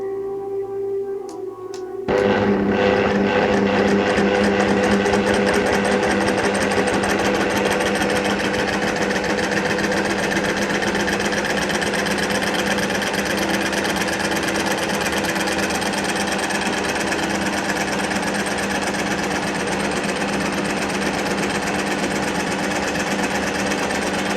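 A small homemade scroll saw starts abruptly after a quiet moment, then runs steadily in slow mode with a buzzing, rattling drone for the rest of the clip.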